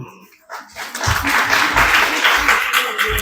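Audience applause breaks out at a college valedictory function and result ceremony, building quickly to a dense, sustained burst of clapping that fills the room after a brief quiet start.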